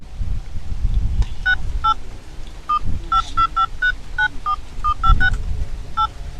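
A phone number is keyed in as a quick, uneven series of short, clear electronic tones, with soft rumbling noise underneath.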